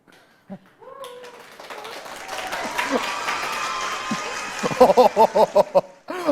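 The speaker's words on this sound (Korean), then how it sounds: "함성 소리 넣어주셨어" During a live fan-event stream, a cheering crowd effect swells under talking voices, building to a loud roar that ends in a run of rhythmic claps.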